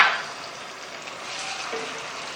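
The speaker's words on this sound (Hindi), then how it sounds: "ऑयल शामिल किया हमने, प्याज को फ्राई करते हैं।" Chopped onions frying in oil in a home kitchen pan while an arvi sabzi is being cooked, giving a steady close hiss and sizzle with a sharper burst at the start, no voices.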